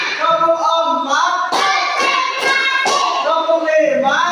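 A classroom of children chants a counting clap routine, sharp hand claps landing in time with a sung-spoken chant, voices dominant and close with the claps punctuating each count.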